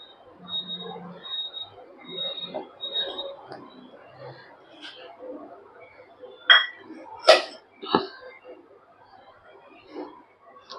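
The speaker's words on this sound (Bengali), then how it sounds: "এইভাবে কিছুক্ষণ নাড়তে হবে" A spoon stirs beaten egg in a hot kadai for chicken soup, giving a few sharp metallic clinks close by after a stretch of softer scraping. A faint voice sits in the background.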